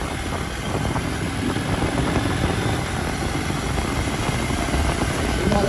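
A KTM 790 Duke L motorcycle fitted with an XRACE exhaust rides hard in sprint mode, its engine roaring loudly and continuously with wind rush and no talking.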